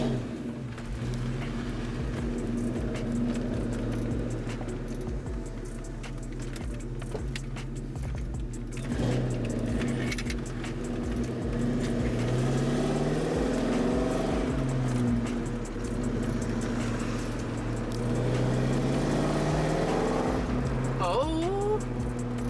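A Ford Mustang SN95 engine idles roughly and sputters with an uneven, pulsing low rumble that runs steadily throughout, with a brief higher whine near the end.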